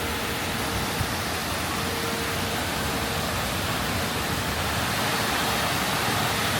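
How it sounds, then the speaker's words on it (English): A waterfall at the National Museum of the American Indian in Washington, D.C. gives a loud, constant broadband rush of falling water, steady and unbroken throughout. "Gorgeous waterfalls."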